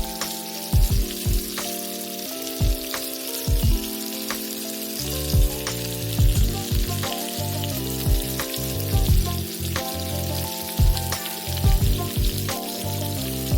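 Mackerel fish fries in oil over a medium flame, a loud dense sizzle with crackles and a steady tonal hum underneath, continuous throughout with no talk.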